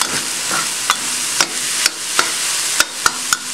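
Meat and onion sizzle steadily in a hot pan, with sharp scrapes of a utensil stirring roughly every half second over the constant frying hiss.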